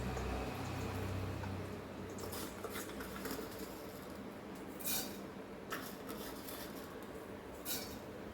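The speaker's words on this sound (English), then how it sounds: "we will add our mustard seeds first" Mustard seeds dropped into hot ghee, a steady soft sizzle and crackle with occasional pops, close and continuous throughout.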